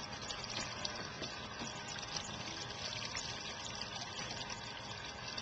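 Faint, steady water runs from a faucet through a toy wheel, a soft continuous trickle and gush with no talk.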